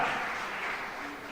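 A church congregation applauding, a broad continuous clatter of many hands at moderate level, fading slightly toward the end.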